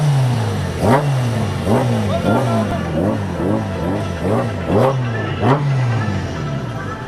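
Speedway race car engine at Ipswich after a 75-lap race, idling and revving in rhythmic surges, fairly close, with a crowd and public-address voice audible underneath.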